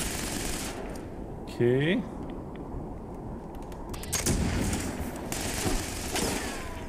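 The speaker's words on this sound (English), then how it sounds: "Dodge his barrage of bullets." Gunfire barrage in the game Fallout 76: sharp repeated shots and bursts over steady game noise, plus a brief rising tonal effect, with a voice speaking briefly.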